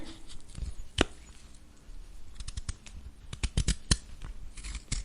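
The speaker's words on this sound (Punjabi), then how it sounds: "ਇਸ ਤਰ੍ਹਾਂ ਆਪਾਂ ਇਸ ਨੂੰ ਬਰੀਕ ਬਰੀਕ ਕੱਟ ਲੈਣਾ" A knife finely chops fenugreek (methi) leaves on a board, giving crisp, irregular clicks and taps in quick bursts, close and fairly quiet.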